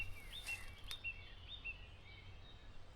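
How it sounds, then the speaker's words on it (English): Birds calling in woodland, a few faint, high chirps repeating every half second or so over quiet outdoor background. "The amount of birds and wildlife I can hear."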